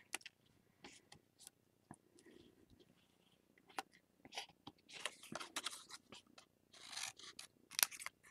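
Scissors cut small pieces of paper for an art card, making close, quiet, irregular snips and rustles that grow busier toward the end, with no talking.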